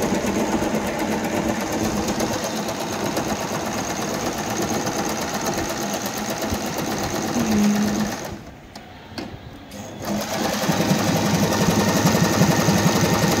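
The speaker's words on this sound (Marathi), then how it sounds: "रेग्युलेटर जेवढा प्रेस करणार तेवढी फास्ट मशीन." An Usha Janome Wonder Stitch electric sewing machine stitches in a fast, steady mechanical whir, loud and close, pausing briefly near the end before running again at the same speed.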